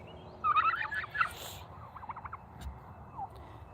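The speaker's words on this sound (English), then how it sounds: "It's quite a pretty egg, the bourbon red turkeys." Bourbon Red turkeys gobble on a small farm, a burst of rattling gobbles near the start followed by fainter, scattered calls, with no talking.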